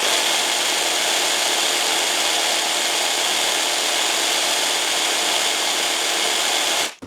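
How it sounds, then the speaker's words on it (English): Dremel MS20 Moto Saw running steadily with its oscillating motion switched on, a loud continuous close-up buzzing whine that holds for about seven seconds before cutting off abruptly. "let's switch on the oscillating motion. Let's see if that makes a difference at approximately the same distance."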